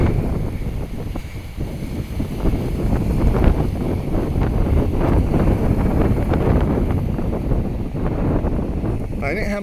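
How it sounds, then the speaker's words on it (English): Outdoor wind buffets a handheld microphone with a loud, constant rumbling roar that swells and dips slightly, while a voice talks faintly underneath. "I'm just trying to get away from this wind."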